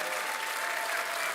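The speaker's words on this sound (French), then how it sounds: "applaudissements pour Mia, s'il vous plaît" Sustained audience applause for a contestant's winning performance at a French talent competition, a dense, steady wash of clapping with no gaps throughout.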